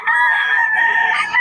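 A rooster at a poultry market in Bocaue crows loudly and close by in one sustained, strained call that breaks into rough clucking near the end, with no talking.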